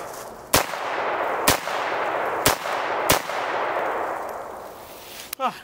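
A Beretta M9 pistol fires four spaced shots, loud sharp cracks about a second apart over a steady outdoor hiss, followed by a brief metallic clatter at the end.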